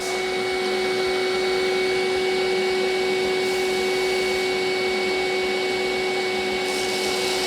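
Sump cleaner vacuuming coolant and metal chips out of a machine sump in a shop, a steady loud suction roar with a constant whine, running alone throughout.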